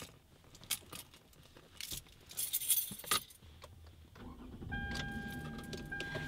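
Keys jangle and clink in a few sharp metallic bursts, then a car engine starts and a steady hum and chiming take over.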